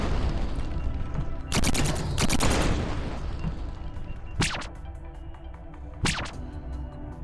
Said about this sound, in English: So there's a shooting turret